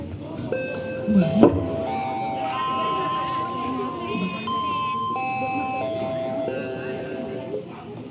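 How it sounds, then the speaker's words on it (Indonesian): An electronic school bell signals home time with a stepped chime melody of clear sustained tones. A soft murmur of voices sits underneath, with a brief clatter near the start. "Bel pun berderi yang menandakan waktu pulang telah tiba."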